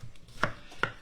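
A knife chops onion on a cutting board at home in a kitchen, two or three sharp close knocks spaced evenly within a second.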